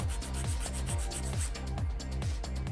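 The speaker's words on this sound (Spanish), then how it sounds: "Ahora vamos a darle cuadratura con la lima Zebra 100 Professional, limando primeramente faldones bajos." Quick rhythmic rasping of a Zebra 100 grit nail file shaping an acrylic nail, short back-and-forth strokes repeating steadily at close range, fairly soft.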